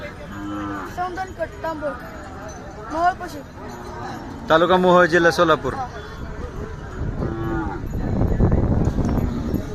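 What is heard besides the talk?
Khillar bull mooing at Pandharpur cattle fair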